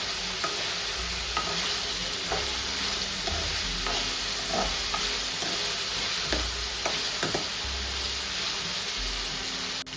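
Pineapple pieces fry on high gas in a pan for a sweet semolina kesari bath, giving a loud steady sizzle with periodic scraping stirs of a spoon, close up and with no talking.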